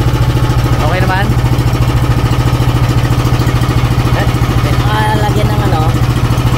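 An engine under test idles steadily with an even, low mechanical throb that holds for the whole stretch, while faint voices murmur in the background.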